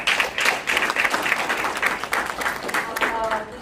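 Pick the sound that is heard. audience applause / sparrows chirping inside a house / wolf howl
audience applause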